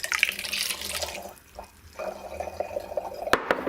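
A pineapple juice and coconut water mix is poured into kombucha in bursts, with splashes and drips, a short pause, then further trickles and a few sharp clinks near the end.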